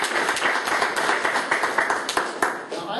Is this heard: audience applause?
yes